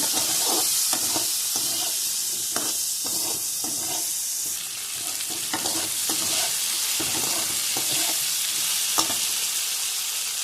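Whole fish seasoned with salt and turmeric fries in a pan, a steady bright sizzle broken by repeated scraping and clacking strokes of a spatula as it is stirred, close and loud with no talk.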